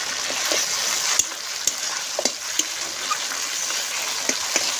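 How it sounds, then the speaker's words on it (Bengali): Spice paste for mutton curry sizzles steadily in a hot pan, a constant frying hiss broken by occasional spoon clicks as it is stirred, with no talking. "পেস্টটা সুন্দর করে কষিয়ে নিয়েছি, দিয়ে দেবো শুকনো মরিচ বাটা।"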